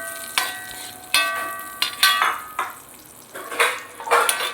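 Cashews and raisins frying in ghee in a pan for semiya payasam, with a series of sharp metallic clatters of a spoon against the pan at uneven intervals over a faint sizzle, close by.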